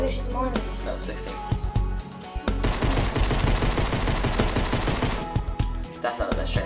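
Rapid bursts of flashlight pistol fire in Fortnite, a dense run of sharp shots after a few opening pops, loud and close with game sounds around it.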